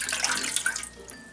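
Water pours for bread-machine whole wheat dough, a short bright splashing trickle that tapers off after about a second.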